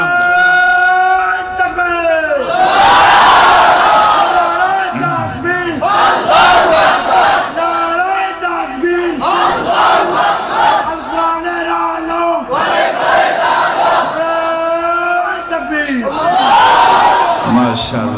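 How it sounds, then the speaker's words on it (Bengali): A large crowd at a religious sermon gathering in Bangladesh chants the takbir slogan Allahu Akbar in call-and-response, a leader's shout answered by loud massed voices repeating in rhythmic waves. "স্লোগান দাও।"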